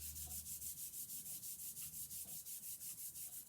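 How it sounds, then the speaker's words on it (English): A paper card, turned face down, is rubbed on its back to press it flat and stick it down, making about fifteen quick, even, scratchy strokes in a steady rhythm, close and alone. "I'm going to turn it over and just give it a little back rub."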